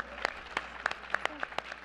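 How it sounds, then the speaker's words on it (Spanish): Scattered applause for a panelist at an inclusion event, sparse separate claps standing out against a quiet room, fairly faint and short-lived. "aplauso, por favor"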